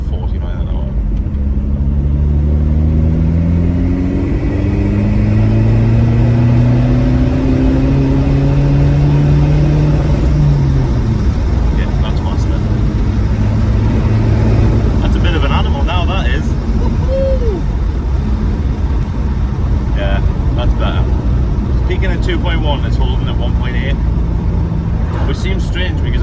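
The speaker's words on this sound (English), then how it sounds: "I'm going to do a pull third gear from 40 miles an hour." A turbo diesel Seat Leon accelerating hard in third gear from about 40 mph, its engine drone rising steadily in pitch with loud cabin rumble while someone talks over it.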